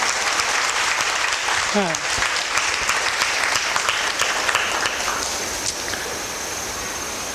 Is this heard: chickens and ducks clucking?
no